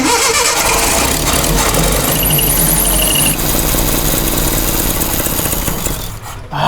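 Truck engine cranking and catching, running roughly and unevenly at close range, loud and steady before it falters and dies toward the end.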